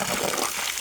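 Clean spring water trickling from a mountain source, a steady close-up splashing flow heard alone.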